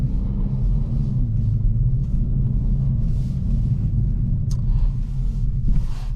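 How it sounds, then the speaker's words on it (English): Low, steady engine and exhaust drone from a 2023 Kia Forte GT while driving, a constant deep rumble from inside the car with light road noise and no talking. "Love the exhaust note from it."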